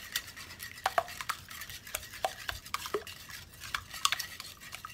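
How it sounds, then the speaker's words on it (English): Four eggs are whisked in a bowl for keto sausage puffs, the whisk clicking and tapping against the sides in quick irregular strokes, fairly quiet and close, with no voices. "Let's go ahead and mix this up a little bit. Just kind of whisk it up."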